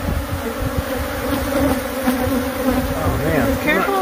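Killer bees swarming around beekeepers, a dense close droning buzz that persists the whole time, with individual bees whining past near the end, no voices.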